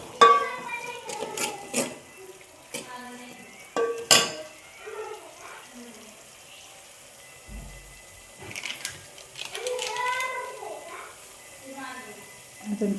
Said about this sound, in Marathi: मस्त हलवून घ्यायचा सगळा मसाला.